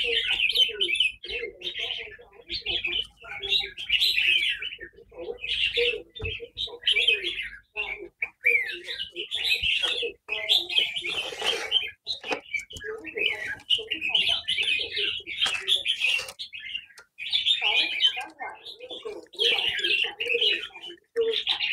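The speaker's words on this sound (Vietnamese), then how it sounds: "Chim em tắm phơi nắng" Red-whiskered bulbuls chirp and tweet in rapid, bright bursts while bathing in sunlight, the calls close and repeated throughout, with some softer coo-like notes and a little faint talk underneath.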